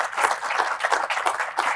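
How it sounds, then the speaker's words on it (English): A podcast audience gives a round of applause for a guest, a quick burst of brisk, fairly close hand clapping from a small group, even and continuous throughout. "please give Barry a round of applause"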